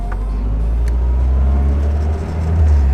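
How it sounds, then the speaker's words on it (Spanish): A 1954 Willys Overland Jeep with a three-speed gearbox pulls away after starting, its loud, rough engine rumbling steadily up close with a brief mechanical crack early on and rising revs near the end. "Ya estoy al volante del Willys Overland de 1954. Vamos a arrancar."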